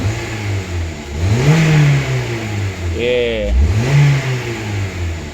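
Honda Civic engine revved twice by the gas pedal, rising and falling in pitch with each push over a steady idle, close and loud, with a brief spoken word in between.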